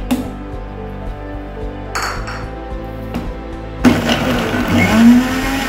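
An electric blender whirs loudly and continuously up close, grinding apple milkshake with ice, with the pitch shifting and a rattling grind as the ice breaks up.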